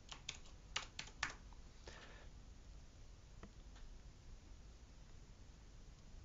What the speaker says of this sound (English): I'll just quickly type that in.